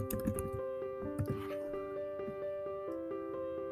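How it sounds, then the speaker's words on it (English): Quiet keystrokes tapped on a computer keyboard, a short cluster of clicks at the start and scattered taps afterward, under a steady electronic hum. "I'm going to type in George Washington"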